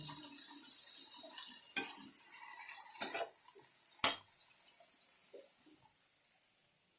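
A metal spatula stirring and scraping in a frying pan on a home kitchen stove, with a few sharp clanks and scrapes at irregular intervals over a faint background hiss that fades toward the end.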